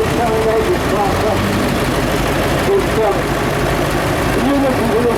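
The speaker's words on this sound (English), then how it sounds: "This is the Parsons V8 that I was telling you about." A historic Parsons V8 engine in an agricultural tractor runs at an autumn show arena parade, a loud, steady, close idling drone that continues without a break, with some voices in the background.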